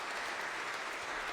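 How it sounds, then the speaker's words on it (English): Steady, dense audience applause fills a benefit concert hall, many hands clapping evenly at a constant level with no talk over it. "That's a round of applause for that"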